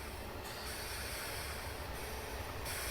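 Trains from Train Simulator 2015 slowing down, a steady broadband rumble with hissing and faint wheel noise running throughout, no talking.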